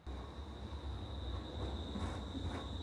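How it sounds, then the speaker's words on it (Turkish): A city tram passes close by on a street in Sarajevo, a steady rumbling roll with a sustained high metallic whine from the rails or wheels throughout, no voices present. "Tramvayı görüyoruz. Yanımızdan geçiyor."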